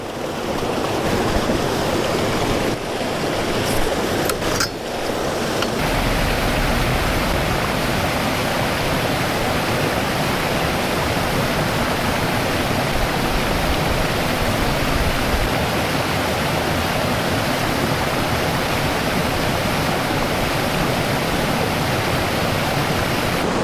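Water rushes over rocks at a small waterfall in a steady, loud, unbroken roar that fills the whole scene.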